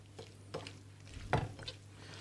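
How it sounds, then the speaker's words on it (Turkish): Tomato and onion are stirred gently in olive oil in a pan, with a few soft scrapes and light taps of a utensil over a faint sizzle and low background hum. "Burada da hafif böyle hafif hafif karıştırıyorum."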